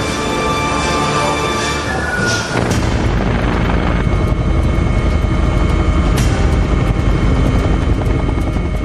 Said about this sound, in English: flying fast and low over the Wicklow Mountains, is an Augusta Westland 139